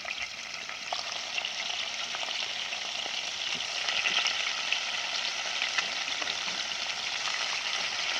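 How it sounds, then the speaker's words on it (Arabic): Chicken pieces fry in hot oil inside a pot for chicken kabsa, giving a steady, dense sizzle with crackling pops that continues throughout and swells slightly partway, with no voices. "اول ما الزيت يسخن هننزل بالفراخ بتاعتنا، زي ما انتوا شايفين كده"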